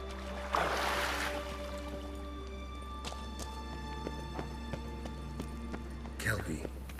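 Horse hooves clip-clopping in The Witcher 3, faint scattered thuds with game music and ambience behind, plus a louder rustling burst near the start and again near the end.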